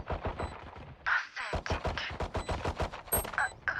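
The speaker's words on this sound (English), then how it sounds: "Oh my, this is about to be the easiest headshot I've ever seen." Rapid automatic gunfire from the video game Valorant rattles steadily as a dense string of shots, loud and continuous with brief gaps.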